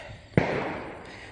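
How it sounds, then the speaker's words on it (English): A single loud gunshot at a public outdoor shooting range, a sharp crack that is somewhat distant and followed by a long echoing rumble that slowly fades, with no talking. "Sorry if you hear the gunshots in the background."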